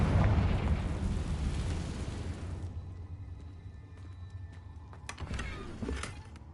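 A Confringo spell explosion in Hogwarts Legacy, a loud, rumbling burst that booms up close and fades over a couple of seconds, followed by sharp scattered pops and clatter.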